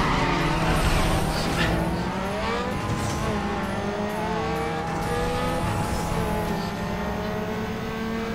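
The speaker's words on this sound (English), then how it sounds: "Those beautiful engines," Several racing-car engines from the Need for Speed video game, including a Mazda RX-7, roar and rev continuously on a snowy road, with rising and falling engine pitch throughout and no talk over it.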